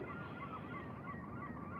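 Seagulls call repeatedly from a distance, faint honking cries layered over a steady low outdoor hum, with no talking.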